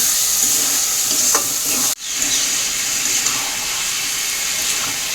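Chicken and potatoes fry in oil and spiced masala while being stirred, giving a loud, close, continuous sizzle that cuts out briefly for a moment and then resumes steadily.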